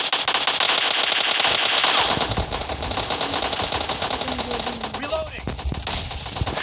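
Rapid automatic gunfire from the mobile shooter game PUBG Mobile Lite rattles in dense bursts across the whole stretch, loud and close, with a voice talking faintly underneath at moments.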